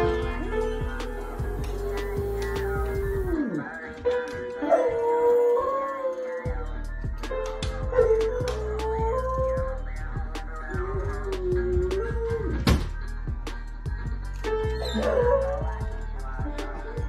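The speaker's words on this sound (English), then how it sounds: "Played the piano and sang, or pawed the keys and howled" A rescued dog paws at piano keys and howls, its long wavering howls and yips riding over uneven, clattering piano notes and chords, close and fairly loud throughout.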